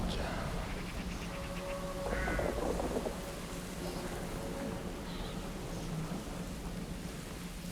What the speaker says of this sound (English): More crazy birds